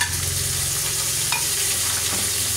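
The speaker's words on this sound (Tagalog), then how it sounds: "ito lalagyan ko po siya ng kunting kamatis" Garlic sautéing in a frying pan with tomato being added, a steady close sizzle and frying hiss running throughout with a brief stirring clink, no voices.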